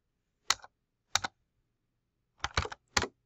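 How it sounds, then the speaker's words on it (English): Short bursts of typing on a computer keyboard, entering a few characters: four close, crisp clusters of key clicks with brief pauses between, alone with no voices. "here after the caret I will type in ST"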